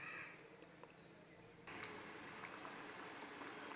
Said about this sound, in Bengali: জলটা আমার ভালো করে ফুটে আসছে